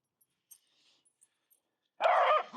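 Puppy Chip gives a single loud, close bark near the end, after a stretch of near silence with a few faint small noises.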